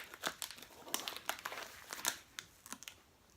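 Tough cardboard and plastic packaging on a snack crate box crinkles and tears in a rapid series of close, crisp rustles and rips, with no talking.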